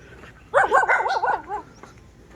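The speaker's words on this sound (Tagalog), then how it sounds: "Sana hindi tayo makagat ng aso." A dog barks near a flood control project site in Davao, giving a quick burst of several close, loud barks and yelps over about a second before it trails off into quiet outdoor background.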